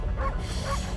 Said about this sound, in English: You can bark faster, looks like, when you spin